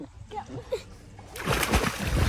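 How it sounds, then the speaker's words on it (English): People splash in water on a day trip in Italy near Livorno, a burst of busy, close splashing and sloshing that starts after some quiet chatter and keeps going. "We are splashing."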